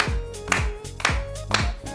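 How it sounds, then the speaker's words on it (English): Hands clapping to a dance count in a kids' dance class, four sharp evenly spaced claps about half a second apart, close and fairly quiet with no talk. "Let's clap our hands."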